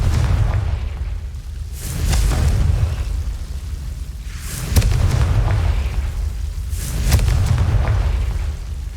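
Confringo blast spells exploding in Hogwarts Legacy on PS5, a series of deep booming bursts with rumbling low tails, several sharp hits spaced a couple of seconds apart, loud and without talk.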